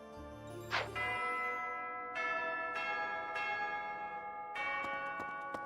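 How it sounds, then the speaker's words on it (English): Church bell tolls in the Three Houses video game, several deep resonant strikes ringing out one after another with long sustained overtones, heard alone with no talk. "Alright, that is the final bell."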